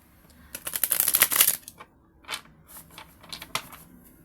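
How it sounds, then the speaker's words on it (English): Tarot cards being shuffled up close: a dense run of quick riffling flicks, followed after a pause by scattered shorter bursts of card slaps and shuffles. "just gonna shuffle the cards real quick for Gemini"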